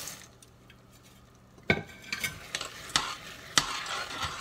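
Gram flour boondi drops land in hot oil for frying, giving a few sharp splashy bursts and sizzling after a quiet start, with occasional stirring clinks of a metal ladle against the pan.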